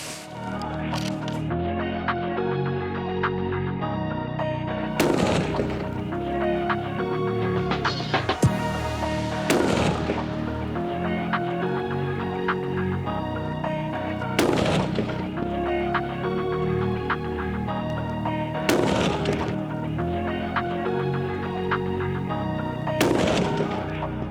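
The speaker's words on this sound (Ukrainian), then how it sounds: "Дистанція 300 метрів, 5 пострілів." Several sharp, loud cracks ring out at spaced intervals, shots from a Ruger Hawkeye rifle in 6.5 Creedmoor at a 300-metre range, each followed by a brief decay over a steady background.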